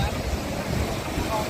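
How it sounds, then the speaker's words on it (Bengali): Night surf on Puri beach makes a continuous low, rushing roar of waves breaking, blended with buffeting wind noise, with no distinct individual crashes. "এই যে রাতের সি বিচ, ঢেউগুলো দেখুন কত সুন্দরভাবে পড়ছে"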